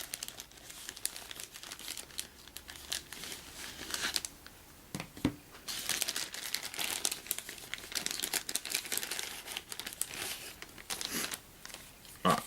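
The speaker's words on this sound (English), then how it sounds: "Now let's get into the big packaging here and get all the cool stuff out so we can see what this stuff actually says." Cardboard and plastic packaging for the Star Wars X-Wing Miniatures Game Millennium Falcon expansion crinkles and crackles up close as it is opened and unpacked, with continuous rustling and a few sharper tearing crunches.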